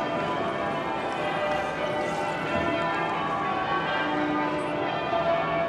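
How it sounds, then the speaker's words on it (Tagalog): Church bells ring steadily in a dense, continuous wash of overlapping tones, heard from some distance amid street ambience in Manchester, England. "may naririnig akong tunog ng kampana ng simbahan ba yun?"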